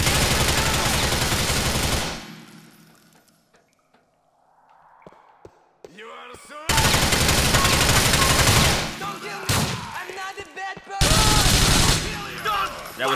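Video game gunfire sounds in loud, dense bursts, a long volley at the start and two more sustained stretches later, separated by quieter gaps with faint scattered sounds.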